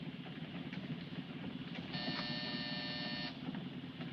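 A buzzer is pressed aboard a train in a 1952 crime film, giving a single steady electric buzz of about a second and a half over a continuous low rumble.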